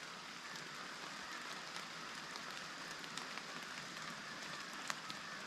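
Rain patters steadily on a tree canopy over a campsite in the New River Gorge, a soft continuous hiss with scattered individual drips, faint and distant with no talking.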